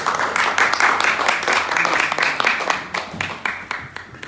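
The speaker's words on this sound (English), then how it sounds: "Another round of applause for Nyasha, please." An audience at a business chamber conference in London gives a dense round of applause, a loud, sustained wash of many hands clapping together that thins slightly toward the end.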